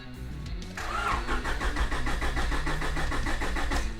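A Honda Integra DC2 engine cranks hard without catching, the starter turning over in a steady, rapid rhythmic chug for about three seconds, loud and close, with no speech.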